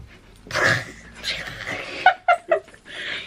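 A person vocally imitates glass shattering, giving a noisy burst followed by several short, sharp crackling bursts, all close and fairly loud.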